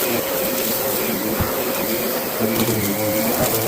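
A Kenmore Pop-up 600 Series canister vacuum runs with a steady, loud whining drone, its pitch and strength shifting as the suction is adjusted partway through, heard on its own without talk.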